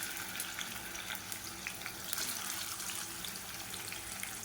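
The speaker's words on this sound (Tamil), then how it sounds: "இப்போ எண்ணெய் நல்லா சூடாயிருச்சு. இப்போ இதில் பார்த்திங்கன்னா நல்லா ஒரு 2 கை அளவுக்கு பெரிய வெங்காயம் நீளமாக நறுக்குனதை சேர்த்துக்கலாம்" Sliced onions sizzle and crackle steadily in hot oil for chicken biryani, a dense, even frying hiss with small pops throughout and no voices.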